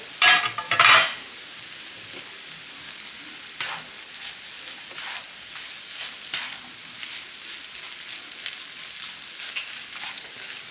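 Bacon cooking in a home kitchen pan, with a loud burst of scraping or stirring at the start, then a steady soft sizzle and scattered light clinks that carry on alone without talk.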